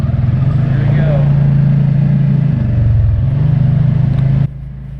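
A vehicle in two-wheel drive rolls along the rocky Rim Road ATV trail, its engine droning steadily and close with shifting pitch before the sound drops off near the end.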